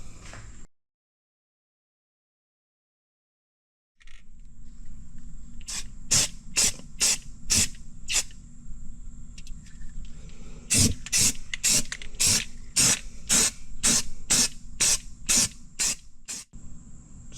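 Short bursts of aerosol spray paint put silver onto a coilover suspension part, about a dozen quick hissing blasts in a rough rhythm after a brief silence, close and clear with no talk.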